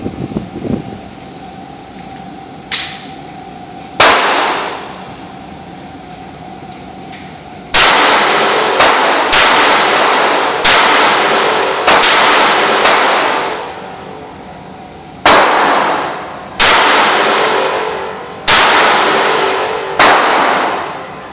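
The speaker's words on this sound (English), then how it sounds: "This is my carrier weapon and definitely is the smallest caliber weapon I have, and we're going to give it a few rounds today." Smith & Wesson 380 Bodyguard pistol fired at an outdoor range: loud close gunshots, one early, then a dozen sharp cracks in irregular clusters, each with a short decaying echo.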